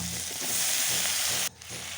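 Bitter gourd, potatoes, green chili and raw banana sizzle steadily in hot oil in a pan, a loud continuous hiss that dips briefly as the vegetables are stirred, then resumes.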